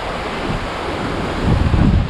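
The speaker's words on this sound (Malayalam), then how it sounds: "നല്ല പൊളപ്പൻ കാറ്റുണ്ട് കേട്ടോ" Strong wind in Perth city buffets the microphone with a constant low rumbling roar that swells louder toward the end, with no voices.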